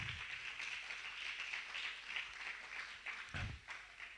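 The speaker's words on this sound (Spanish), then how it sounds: "Mientras que usted le da un fuerte aplauso al Señor por eso" A church congregation applauds during a sermon, a faint, distant wash of clapping that holds steady throughout with a brief low thump near the end.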